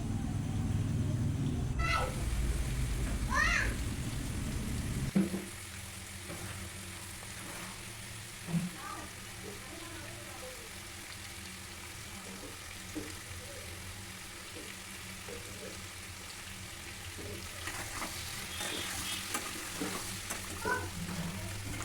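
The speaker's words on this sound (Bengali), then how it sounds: "আর এই যে আমার আলু ভাজাটা হয়ে এসেছে।" Potatoes and meat frying in a pan: a steady broadband sizzle, louder and denser for the first few seconds, then settling into a continuous crackle with occasional light clinks.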